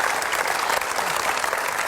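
A seated crowd breaks into brisk, dense applause at a family celebration gathering, many hands clapping together loudly and evenly through the short moment.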